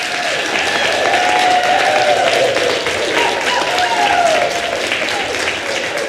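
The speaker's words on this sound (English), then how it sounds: "Will you join me in acknowledging your amazing musicians by indeed clapping?" An audience claps steadily for musicians, with dense, sustained applause filling the room for several seconds at full volume.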